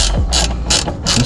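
A ratchet wrench loosens a door bolt on a cammed Dodge Charger R/T in three quick bursts of loud clicking, close to the mic, with no talking.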